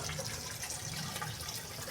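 Water pours steadily from a coin-operated fountain that runs after a one-rupee coin is inserted, a faint, continuous rushing flow heard alone without talking.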